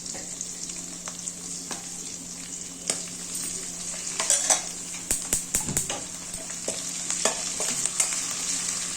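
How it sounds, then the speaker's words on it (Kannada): Green ginger and garlic frying in a pan for dal palak, a steady bright sizzle with repeated clinks and scrapes of a spoon stirring, growing busier toward the end, with no talking. "ಹಸಿರು ಶುಂಠಿ ಬೆಳ್ಳುಳ್ಳಿ ಅದನ್ನು ಹಾಕೊಂತ ಇದ್ದೀನಿ"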